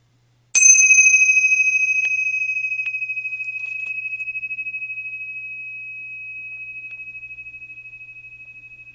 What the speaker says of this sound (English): I'll ring the bell to make it official.